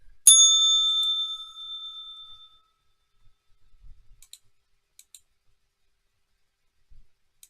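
A single bell strike marks the market open during a live futures trading session. It rings out clearly and decays over about two seconds, followed by faint, scattered clicks in near silence.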